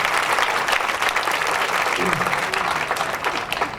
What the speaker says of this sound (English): let's give her a round of applause too, Ms. Kate